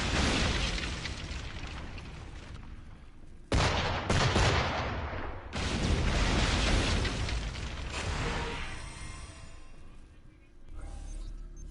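Naval cannon fire aimed at a gunboat in the video game Assassin's Creed Rogue comes as heavy booming blasts and rolling rumble, with a sudden loud burst midway before the roar trails off and quieter battle noise lingers.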